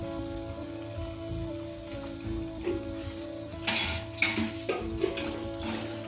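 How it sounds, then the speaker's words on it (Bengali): Crispy potato masala fry coated with cornflour is stirred and lifted from a kadai, giving soft crackling and scraping rustles over a faint steady hum, with a livelier burst of clattering partway through. "আর আপনারা সাউন্ড শব্দটা শুনেই বুঝতে পারছেন যে অনেকটা মুচমুচে হয়েছে কর্নফ্লাওয়ার দেওয়ার কারণে"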